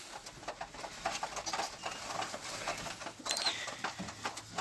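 Pigeons cooing during evening feeding in a loft: soft, low coos repeat under a steady patter of pecking and shuffling, close by and fairly faint, with no talking.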